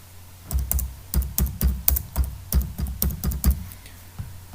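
Someone types an Aadhaar number on a computer keyboard, producing a steady run of crisp, close keystrokes in quick irregular bursts over a low background hum, with no talking.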